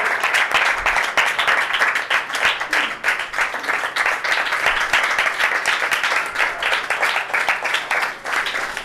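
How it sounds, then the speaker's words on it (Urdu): Sustained audience applause fills a church meeting welcoming a pastor, with dense, steady clapping from a crowd for the whole stretch. "آپ کی بالکل تالیوں کے ساتھ۔"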